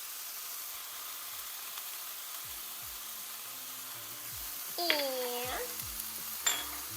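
Kale stirred in a low-heat pan after a sprinkle of salt and pepper, giving a steady soft sizzle with scraping stir strokes throughout and a few louder clanks of the utensil near the end; a brief voice is heard.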